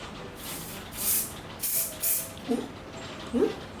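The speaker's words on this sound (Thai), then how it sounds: "สเปรย์กันแด ดน่ารักมากเลยเป็นน้องสติชนะคะเขาบอกว่าเย็นด้วยนะ" Stitch-themed cooling sunscreen spray released in several short bursty hisses from an aerosol can, close and moderately loud, with faint handling noises between the sprays.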